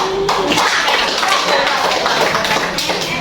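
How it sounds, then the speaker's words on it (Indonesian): Classroom applause for a student, a group of children clapping steadily and close for about three seconds, bright and busy with no speech over it. "Beri tepuk tangan dulu untuk Askia"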